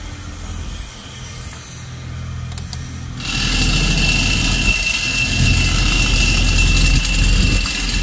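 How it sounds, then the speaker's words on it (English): A high-pressure rinse wand at a self-service car wash starts up after a quieter stretch of handling noise, then a loud steady hiss and spray continues close by to the end. "Let me go ahead and use the high pressure rinse the tire stuff out"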